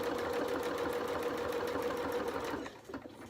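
A sewing machine stitching triangle bunting runs steadily and close for nearly three seconds, then slows and stops, leaving a few soft clicks.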